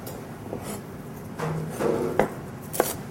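Knife chopping big chunks of carrot, onion and celery on a cutting board: a few scattered, uneven thuds and scrapes, fairly quiet, with sharper knocks near the end.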